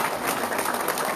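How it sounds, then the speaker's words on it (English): An audience at a political party congress in the USA claps together, a dense, even wash of hand claps that holds steady at moderate volume from start to finish. "Clap for them, please."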